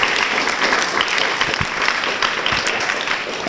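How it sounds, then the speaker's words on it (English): An audience at a game festival conference session applauds, a close, full wash of clapping from a roomful of people that holds steady with a few sharper individual claps. "let's give them a huge round of applause"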